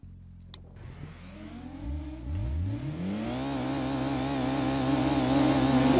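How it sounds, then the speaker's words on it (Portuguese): A Nissan Skyline revs and accelerates in a PlayStation racing game running on an emulator. The engine note climbs steadily and grows louder through several rising gear sweeps, with no talk over it. "Vamos começar aqui a corrida então de Nissan Skyline"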